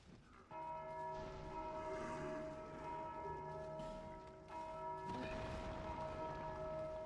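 Bells in Dark Souls II: Scholar of the First Sin toll repeatedly with long overlapping resonant rings, set against a steady ambient drone, loud and continuous with no talk.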